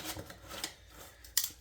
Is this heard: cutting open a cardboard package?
yes